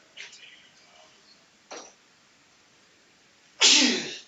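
A single loud sneeze breaks through near the end, preceded by a couple of quieter throat noises, in an indoor setting where people are chatting.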